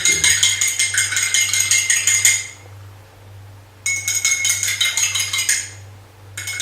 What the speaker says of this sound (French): je reprends donc mon petit morceau de sel que je mets donc à gauche, que je vais touiller